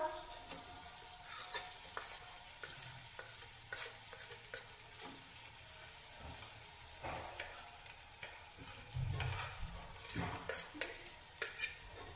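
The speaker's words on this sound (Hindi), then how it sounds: "अब ये आलू डालिए इसमें उबला हुआ" Boiled potatoes go into a hot pan for aloo masala and are stirred, giving irregular scraping, clinking and scattered soft sizzling at close range throughout, with no talk heard.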